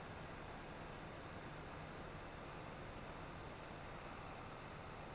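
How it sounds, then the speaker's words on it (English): A tractor engine rumbles in Farming Simulator 25 on an American dairy farm map, a steady broadband drone that holds at an even level from start to finish without variation. "Is this tractor too loud,"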